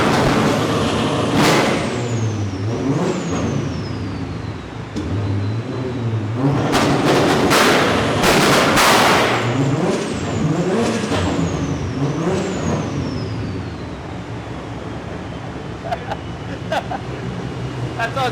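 Nissan Silvia drag car held on a two-step launch limiter building boost, a loud close, harsh crackling engine roar with repeated bangs and revving bursts throughout, voices faintly mixed in.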